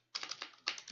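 Rapid clicking of computer keys while Python code is typed, a steady run of close, crisp keystrokes with a brief pause midway.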